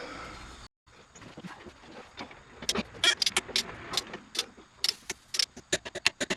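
A torque wrench clicks sharply while an axle is tightened on a 1966 Ford Mustang's differential. Crisp metallic snaps come up close, separated by short pauses, with other small workshop clatter.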